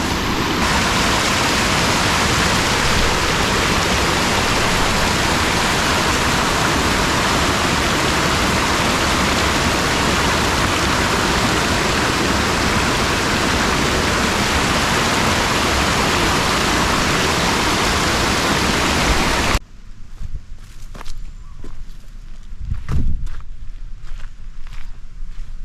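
A loud, constant roar of rushing waterfall on the Wearyan River in the Northern Territory fills most of the clip, then cuts off abruptly, leaving quieter splashing and movement.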